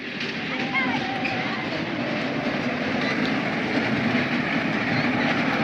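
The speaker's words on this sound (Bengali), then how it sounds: "আবার টয় ট্রেনটা আসছে এদিক দিয়ে।" Toy train rolling through a park inside the Radhakrishna temple grounds at Panchalingeswar, Balasore, a steady rumble and clatter of small wheels on track running the whole time under murmuring crowd voices.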